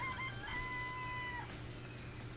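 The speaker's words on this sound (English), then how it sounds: "There's some chickens." Chickens in the video game Danganronpa give a brief, faint crowing call that rises and holds, over a low steady background hum.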